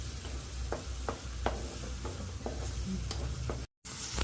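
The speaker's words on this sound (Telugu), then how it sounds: "ఆయిల్ ఇలాగా తేలే వరకు వేపాలి" Onions frying in oil for palak ulli karam, a continuous close sizzle punctuated by regular scraping stirs of a spatula, with a brief gap of silence near the end, no talking.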